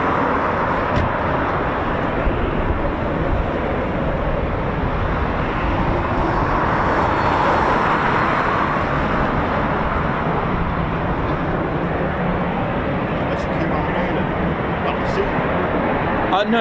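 An RAF Eurofighter Typhoon FGR4 jet roars through a performance takeoff at an air display, a loud broad continuous roar swelling and holding, with spectators talking nearby throughout.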